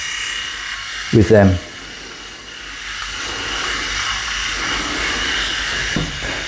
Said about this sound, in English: This type of dedicated head shave does a great job of being able to go over them and be able to shave them